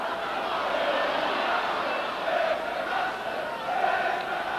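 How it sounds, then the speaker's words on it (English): Oldham rugby league crowd at a Challenge Cup semi-final against Warrington, a broad distant roar of cheering that swells in waves beneath a commentator's voice. "The Oldham crowd just beginning to get behind them now"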